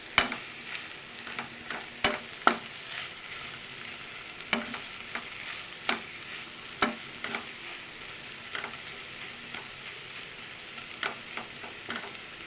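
Okra sizzles steadily as it fries in a pan, with recurring sharp scrapes and clicks from stirring spread through the stretch; close, fairly quiet, no talking.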